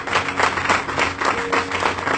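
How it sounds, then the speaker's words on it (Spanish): A church congregation at a Spanish-language service claps together in strong, rhythmic unison, a steady beat of loud hand claps throughout. "Denle un fuerte aplauso a la presencia de Dios."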